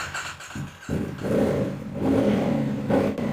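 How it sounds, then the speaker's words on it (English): A CF Moto CL-C cruiser motorcycle's engine fires up and settles into a steady rumble, with a couple of throttle blips and some mechanical clatter. It sounds close by, with no talking. "But hey, let's fire up the engine here."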